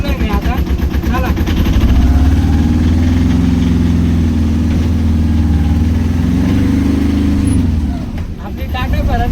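A Tata car's engine runs steadily while driving, a loud low drone that holds throughout and eases slightly near the end, with no talking over it.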